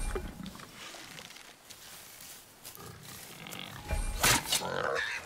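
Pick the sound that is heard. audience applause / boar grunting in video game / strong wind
boar grunting in video game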